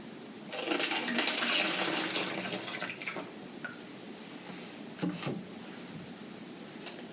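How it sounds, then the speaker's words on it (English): Half a cup of hydrogen peroxide is poured through a funnel into a plastic drink bottle, giving a brief gushing liquid rush that tapers off, followed by a couple of faint knocks. "I'm going to put a funnel in it and add 1/2 cup of hydrogen peroxide."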